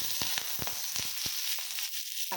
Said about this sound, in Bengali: পেঁয়াজটা ছেড়ে দেবো।